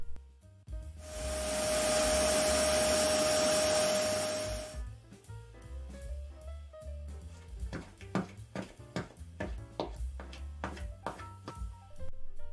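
A household vacuum cleaner runs loudly for about four seconds with a steady whine, then shuts off, followed by music with sharp rhythmic hits.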